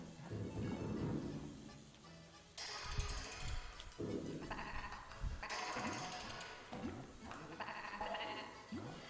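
Sheep in a puzzle video game bleat in repeated wavering calls, mixed with mechanical clunks and shifting game sounds, steady and fairly close throughout.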